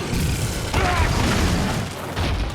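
A blastblight explosion against a monster in Monster Hunter World: Iceborne, heard as a dull, heavy boom with a rumbling tail under dense game noise, and a second burst near the end.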